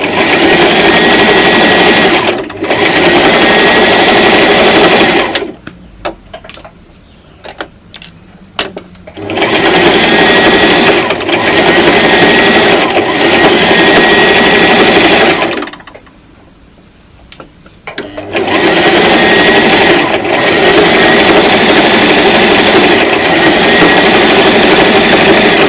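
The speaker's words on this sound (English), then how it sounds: "You have to help the fabric through the machine" A sewing machine stitches t-shirt fabric into a dress in long, loud, steady runs, dropping out briefly twice as the fabric is repositioned before whirring on again, close to the microphone.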